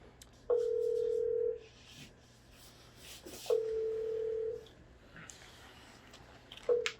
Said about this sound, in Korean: 자 이제 전화 한번 해보겠습니다